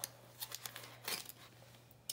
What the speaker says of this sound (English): I'm gonna have to use scissors because they're taped together.